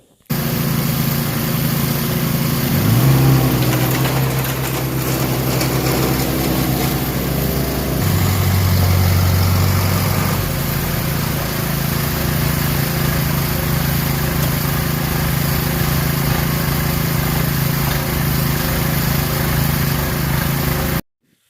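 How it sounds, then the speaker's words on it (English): A ride-on mower with a 66 cubic inch Yanmar diesel engine runs steadily and loudly up close, revving briefly at the start and then settling into a constant rumbling drone. "these have I believe a 66 cubic inch Yanmar diesel"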